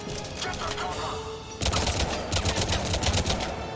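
Assault rifle firing in the video game Mass Effect 2: after a quieter stretch, rapid repeated shots break out and continue as a dense, loud volley, with a voice talking over it.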